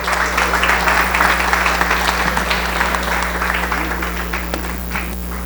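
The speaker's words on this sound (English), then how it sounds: "Let's give Dave another round of applause." Audience applause for Dave Lapham, Bengals TV and radio color analyst, at a Rotary club meeting: steady, dense clapping from a roomful of people that holds strong throughout and thins slightly toward the end, over a low electrical hum.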